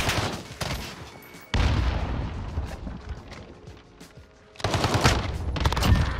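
Uzi submachine gun fire in the Modern Warfare video game, bursts of rapid shots in two loud stretches with a quieter gap of scattered distant gunfire between.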